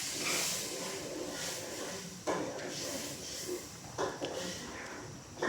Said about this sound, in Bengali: দুধটা আমার এখনও জাল হইতেছে।